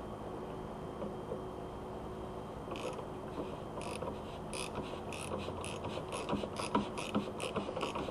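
A tap cuts threads into a drilled hole in an intercooler, giving soft scraping at first, then rhythmic clicking and ratcheting bursts that come more often as the tool turns. The sound is close and faint, with no voices.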